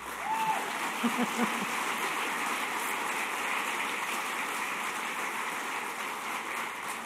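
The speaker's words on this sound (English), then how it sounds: "Now you can clap" Applause from a political rally audience, a steady wash of many hands clapping at moderate distance, with a faint brief voice near the start.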